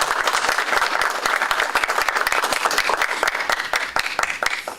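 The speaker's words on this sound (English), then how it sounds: "Okay, let's clap for" Loud, dense applause from a conference audience, many hands clapping steadily and continuously without pause.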